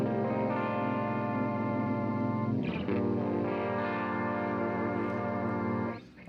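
Electric guitar chords sent through a Caline Big Dipper CP-36 pitch shifter pedal set a minor third up, blending doubled harmonized tones; sustained strums ring out with one chord change midway before fading at the end, no voices.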